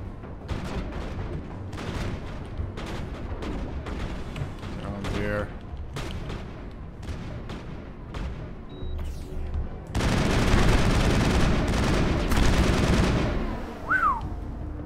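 Rapid gunfire in the video game Mass Effect Andromeda crackles in repeated bursts, building to dense sustained automatic fire in the last few seconds, with a voice talking intermittently over it.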